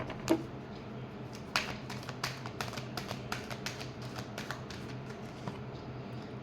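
Tarot cards being shuffled in a quiet room, a soft run of quick papery taps and flicks, fairly faint and close, with no talking.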